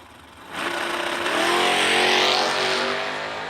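Drag race cars launch side by side in a heads-up race at a drag strip, engines roaring loud and rising as they accelerate away, with a steady high-pitched whine building over a few seconds.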